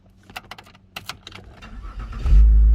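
A Cadillac CTS, just repaired after a no-crank, no-start fault from a bad ECM: a few light key clicks and jingles, then the engine cranks and catches with a loud, deep rumble that carries on steadily.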